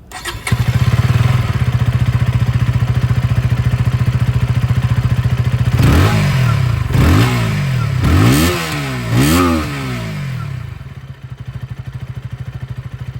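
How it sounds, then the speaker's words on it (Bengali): A 2025 KTM Duke 160 streetfighter motorcycle idles with a steady low exhaust burble, then the throttle is blipped in four quick, loud, rising revs that fall back before the engine settles to idle again. "আপনাদের এবার এক্সস্টের সাউন্ডটা একবার শোনাবো"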